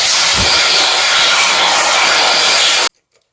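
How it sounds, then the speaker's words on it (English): Compressed air blasts debris from the spark plug holes of a 1982 Kawasaki GPz 750 engine, a loud continuous close-up hiss lasting nearly three seconds, then cutting off abruptly to near silence. "we will come back with some air here and just make sure we finish getting all debris away from these spark plug holes before we open"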